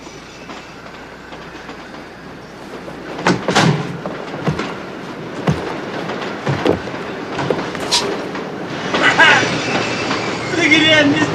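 A passing train with rhythmic clickety-clack of wheels on rails and a few sharp knocks and rattles from the cars, building louder toward the end with faint voices underneath.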